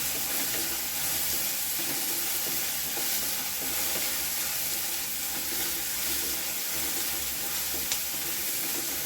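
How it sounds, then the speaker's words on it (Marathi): Onion sautés in oil for baingan bharta, a continuous close sizzle with soft stirring scrapes and occasional light clinks, steady throughout with no talking. "चांगला कांदा परतून घ्यायचा"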